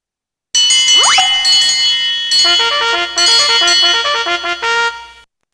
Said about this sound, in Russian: Ты нашел мой колокольчик?